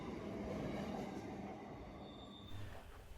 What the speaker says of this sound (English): Approaching the platform now is a container train hauled by two NR class locomotives.